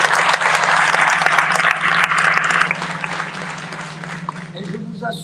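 Applause from a conference audience at the World Bank and IMF annual meetings in Marrakech, dense clapping for a few seconds that thins and fades while a low steady hum persists underneath.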